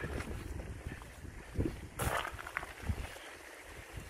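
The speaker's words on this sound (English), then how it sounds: "Because we've got wind. Keeps the midges away." Wind gusting across a Scottish Highland campsite, a steady buffeting rush on the microphone with a few stronger gusts.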